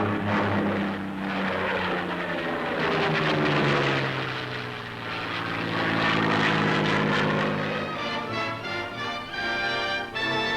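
A propeller airplane drones loudly overhead above apple orchards in blossom, its engine swelling and fading in pitch as it passes, with no voices.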